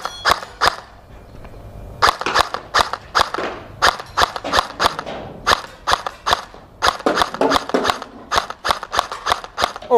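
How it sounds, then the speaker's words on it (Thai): An AK-74 gel blaster with blowback and a 3-cell battery fires on full auto in sharp, rapid bursts of clacking shots separated by short pauses, close and loud. "โอ้โหยิงออโต"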